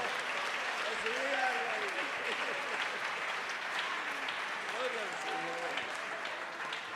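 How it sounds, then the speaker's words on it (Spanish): A church congregation applauds throughout, with steady clapping under singing or shouted voices that rise above it. "Regale un aplauso a nuestro Señor Jesucristo."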